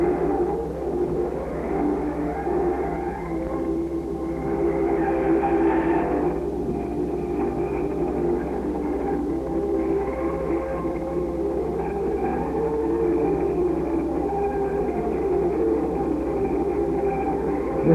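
Siddle C Cook haulage lorries drive out of a park, their engines giving a continuous rumbling drone with gentle swells as vehicles pass at moderate distance.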